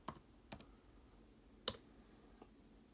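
Keys on an iPad keyboard are tapped a few times, sparse, isolated clicks spread out with one sharper, louder tap midway, faint against a quiet background.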